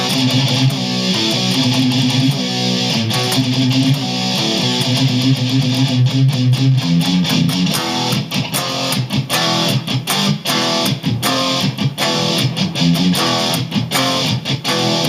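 A distorted electric guitar plays a chugging rhythm riff, loud and steady, with choppy muted strums repeating throughout and no voices.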